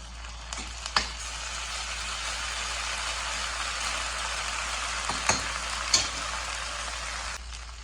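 Ginger garlic paste frying in a curry pan, a steady, soft sizzle with a few small clinks and bumps, no voices.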